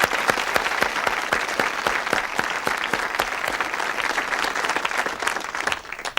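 Studio audience applause for a 1974 television panel game show, steady dense clapping filling the room continuously and loudly throughout, tapering slightly at the very end.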